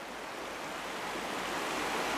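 Fast-flowing river water rushing past a trout angler on the bank, a steady, close, full-bodied roar of noise that swells slightly louder toward the end, with no voices.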